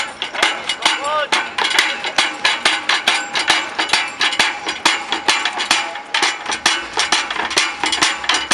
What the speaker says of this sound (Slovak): Hammer Box, a tam bude 50 úderov, 10 kg kladivo